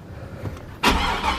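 Pickup truck engine cranking and catching at close range, a sudden loud burst of engine noise after a quiet lead-in, settling into a steady run; the truck has a brake fault.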